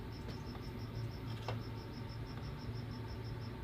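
Crickets chirp in a steady, rapid pulse, a continuous high trill against quiet background noise, at a tarantula enclosure during feeding.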